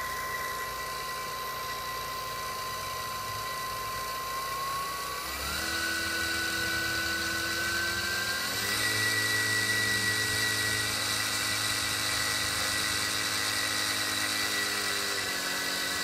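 A spindle motor for a 2x72 belt sander build whines steadily at about 6,000 RPM on a bench test, its pitch stepping up twice as the speed rises, with no talking.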